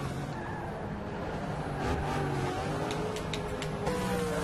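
A Mazda race car engine in a racing video game drones steadily at high revs through a run at Laguna Seca, with shifting pitch and brief tire noise over a constant mechanical hum.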